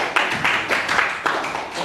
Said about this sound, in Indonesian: tepuk tangan untuk Khayal.